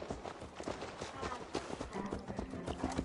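Hooves of a black horse in Assassin's Creed Valhalla clop in a quick, steady rhythm, faint and close, with soft rustling underneath.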